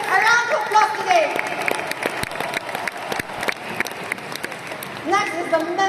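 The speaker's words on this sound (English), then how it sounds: "Can we give our Riway leaders a round of applause today?" A leadership training seminar audience claps for Riway leaders, a mid-sized crowd whose applause swells and then trails off, with some cheering and voices over the clapping near the start and end.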